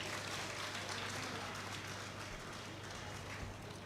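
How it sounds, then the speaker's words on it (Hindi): A large audience applauds at a health-campaign launch event at Ranchi Sadar Hospital. The clapping forms a dense, steady wash that holds at an even level for the whole stretch, with a faint electrical hum beneath it. "तालियां जोरदार हों।"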